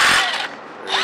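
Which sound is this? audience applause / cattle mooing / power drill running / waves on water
power drill running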